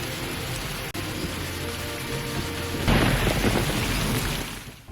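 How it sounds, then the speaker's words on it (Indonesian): Heavy rain pours steadily in an animated series, a dense, loud hiss broken by a brief dip, then swelling into a deeper roaring rumble of thunder that rolls on for about two seconds before fading, with no speech. "Di tengah hujan yang sangat lebat,"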